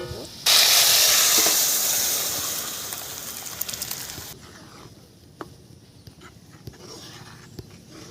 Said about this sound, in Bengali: পেঁয়াজটা দেখুন বন্ধুরা একদম পুরো ব্রাউন করে ভেজে নিয়েছি। এবারে আমি এর মধ্যে দিয়ে ডালটা দিয়ে দেবো।